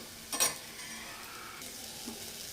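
Tomato rasam mixture frying on a low flame, a soft steady sizzle with a brief clatter of stirring near the start, no voices.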